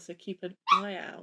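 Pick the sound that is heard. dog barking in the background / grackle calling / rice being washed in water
dog barking in the background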